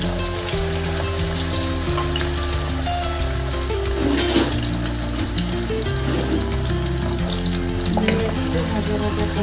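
Carrots and peas fry for dalia pulao, a constant close sizzle in hot oil with stirring scrapes throughout, no voices.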